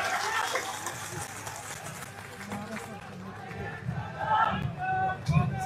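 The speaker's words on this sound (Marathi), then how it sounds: "जोरदार टाळ्या." A crowd at a political party rally claps and cheers loudly in a steady wash of applause and shouting, with voices calling out over the noise.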